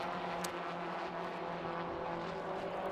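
Race cars lap Anglesey circuit at a BRSCC summer race weekend, producing a steady, continuous engine drone with little variation.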